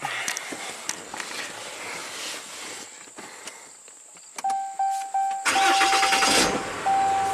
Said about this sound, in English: So I'm going to start the truck.